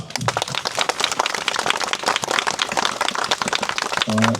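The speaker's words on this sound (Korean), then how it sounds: "박수를 힘차게 칩시다" A crowd claps vigorously at a delivery workers' memorial ceremony marking labor martyr Kim Tae-wan's second anniversary, the dense, sustained applause filling the space with little speech, and a brief tone near the end.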